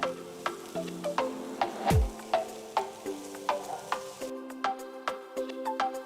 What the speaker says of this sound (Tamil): பன்னீர் போட்டதுக்கப்புறம் இன்னொரு அஞ்சு நிமிஷம் கிண்டுங்க